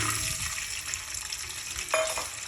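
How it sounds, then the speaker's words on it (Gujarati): Pigeon peas drop into hot oil seasoned with cumin, giving a brief, close hissing sizzle with a small clatter near the end. "હાલો આવી ગયું તેલ એવું લાગે છે, નાખી દેવાનું. તુવેરના દાણા નાખી દેવાના."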